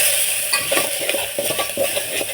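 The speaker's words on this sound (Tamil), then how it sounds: "மிளகாய் தூள் வந்துச்சு. எல்லாத்துக்கும் நல்லா வதக்கிடணும்." Masala with chili powder sautéing in a pan crackles steadily, with quick rhythmic spatula scrapes and light metal clinks close by.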